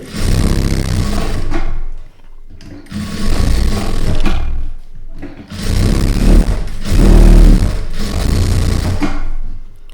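A sewing machine stitches lining fabric in loud close bursts of rapid whirring, four or five runs of a second or two each, separated by short pauses.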